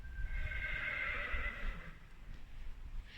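A pony whinnies loudly and close by in one long, shaky neigh that fades out, with a few soft hoof and shuffling sounds underneath and no talking.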